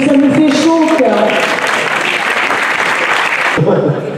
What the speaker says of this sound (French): je voudrais vraiment que vous puissiez les applaudir une nouvelle fois